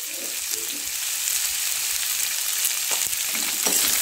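Potatoes fry in a pan with onions and get stirred, making a constant hiss of frying with soft scraping strokes of a spoon that grow more frequent toward the end.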